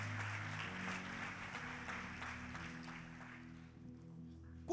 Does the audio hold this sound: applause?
yes